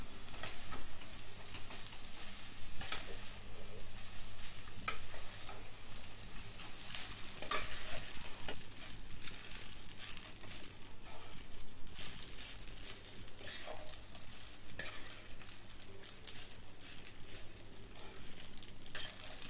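Vegetable rice made with cooked rice being stirred and mixed in a frying pan, a steady scraping stir with soft sizzling throughout, close and continuous, with no talking.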